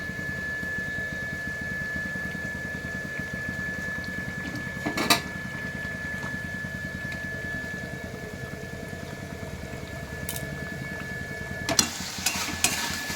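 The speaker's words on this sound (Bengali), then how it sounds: "ভাজা মাছগুলো দিয়ে দিচ্ছি।" A fish curry in a pan bubbles and sizzles over high flame as fried fish pieces go in, a faint steady crackle with a few sharp clatters of the pan or spoon.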